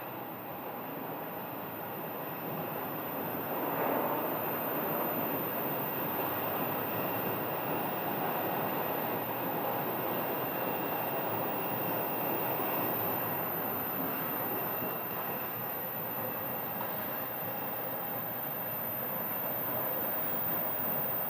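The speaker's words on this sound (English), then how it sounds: "Looks like a 737 MAX 8 right there." A Boeing 737 MAX 8 airliner at Sky Harbor airport gives off a broad, steady jet roar that stays loud and even throughout, with no voices over it.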